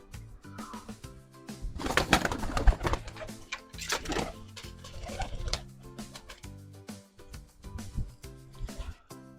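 Soft pigeon coos repeat in short bursts close by, mixed with rustling and a few sharper clicks.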